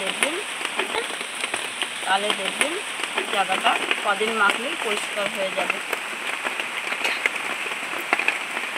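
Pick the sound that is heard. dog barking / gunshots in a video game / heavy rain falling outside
heavy rain falling outside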